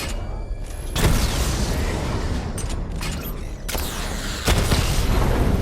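The Batmobile fires missile barrages in Batman: Arkham Knight, giving repeated heavy booming explosions with sharp onsets, spaced a second or more apart over a dense, rumbling engine and combat background.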